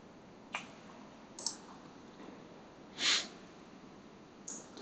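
Computer mouse clicks while a new post is opened on the Imgur image site: a few faint, sharp clicks spaced apart over quiet room hiss, with one slightly louder click near the middle and no talking.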